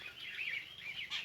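Birds chirp continuously around a sacred banyan tree in a grove at midday, a rippling chorus of close tweets with a sharper call near the end.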